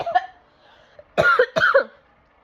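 Two harsh, close coughs come one right after the other, following a brief bit of voice.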